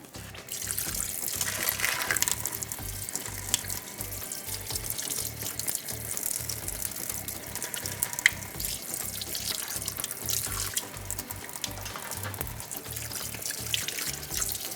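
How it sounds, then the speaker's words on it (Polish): A kitchen tap runs steadily into the sink while liver is rinsed under it. Splashing and trickling stay constant for the whole stretch, close by, with no talking. "Wątróbkę myjemy dokładnie."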